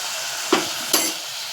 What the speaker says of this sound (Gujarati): મસ્ત ડુંગળી સતરાઈ જશે હવે આપણે એમાં મસાલાની પેસ્ટ બનાવી હતી એ નાખી દઈશું